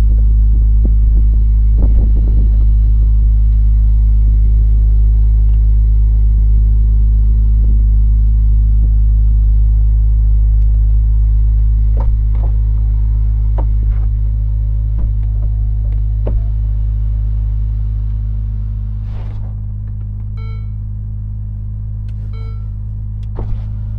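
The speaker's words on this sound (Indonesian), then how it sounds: "Ferrari bilang dia bisa buka tutup atapnya dalam waktu 14 detik" A Ferrari 296 GTS retractable hardtop opens over a steady, loud engine idle hum, with a continuous mechanical whir and scattered clicks and clunks as the roof panels move and latch near the end.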